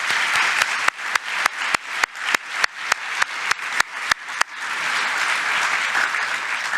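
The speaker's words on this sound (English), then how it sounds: "May I give them a round of applause" An audience applauds at the American Head and Neck Society's presidential address. It begins with a run of sharp, evenly spaced single claps, then swells into sustained, dense applause from the crowd. No one speaks.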